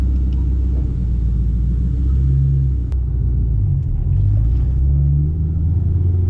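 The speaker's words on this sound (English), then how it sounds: "I'm just taking it for a little test drive now, making sure everything works." A Ford Mustang on a test drive after upgrades, heard from inside as a steady low engine and road rumble that continues throughout with no talking.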